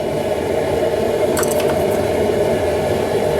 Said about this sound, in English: It's a bubbling good in there.